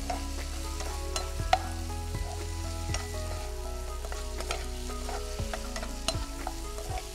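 Tomatoes sauté in a hot pan with a constant close sizzle, punctuated by repeated sharp clinks and scrapes of a spoon stirring, no voices.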